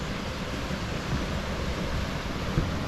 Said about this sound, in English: My own little waterfall.